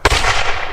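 Musket volley from Redcoat re-enactors at a Scottish castle: one sharp, loud, close crack that rings out and then fades in a short echoing tail.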